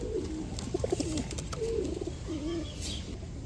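Several soft, rolling coos from green-necked crested pigeons close by, rising and falling over a faint background hiss.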